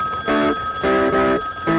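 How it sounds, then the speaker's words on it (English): A telephone rings inside a phone booth near traffic: loud, close electronic trills in quick repeated bursts with brief gaps between them. "You can't just let a phone keep ringing like that."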